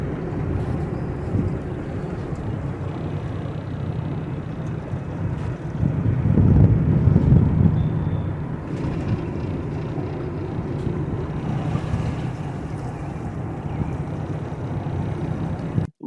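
A boat's motor rumbles steadily as it pulls out of a marina slip, with wind buffeting the microphone and a louder surge partway through.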